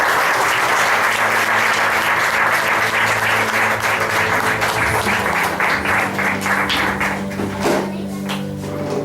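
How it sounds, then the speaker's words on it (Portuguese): A church congregation at a Father's Day service bursts into sustained, loud applause, dense clapping filling the room nearly the whole time and thinning slightly toward the end, with some voices mixed in. "Os irmãos, dê uma salva de palmas para o Senhor"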